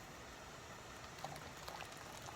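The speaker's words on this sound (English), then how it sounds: "Got my big canner heating up all this wasted water" Water heating toward a boil in a big canner, a faint steady bubbling hiss with a few soft pops, quiet and close.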